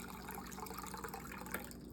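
Filtered water poured into a cup for bread dough, a steady close trickling and splashing that runs throughout, with a brief louder splash near the end.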